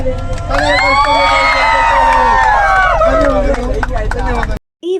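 A group gathered at a function during a trekking trip cheers, whoops and claps together, a loud, close burst of shouting voices that cuts off abruptly near the end.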